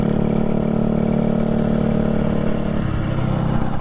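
A motorcycle engine hums steadily while riding on a night tour, loud and close throughout, with a slight drop in pitch near the end as the bike eases off.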